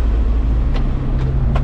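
A pickup truck drives along a road in Thailand, its steady low engine and road rumble continuous and close throughout, with a few faint higher whooshes passing briefly and no talking.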